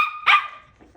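Biewer Terrier puppies, nine weeks old, give one sharp, loud bark up close, followed by faint rustling and small movements indoors.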